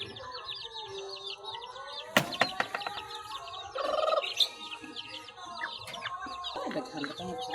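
Several chickens cluck and squawk close by, with sharp calls and a brief flurry of loud clucking midway, over quiet farmyard ambience.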